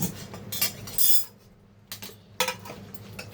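A spoon stirs prawn mince in a bowl, giving sharp metallic clinks and scrapes in a few quick clusters with short quiet pauses between them.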